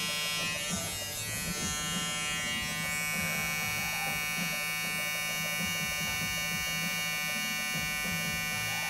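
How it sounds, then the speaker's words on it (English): An electric hair trimmer lining up the sides of a haircut buzzes with a steady, close, high-pitched whine, continuous and unbroken with small shifts as it moves over the hair. "Get my trimmer here and line up the sides very naturally."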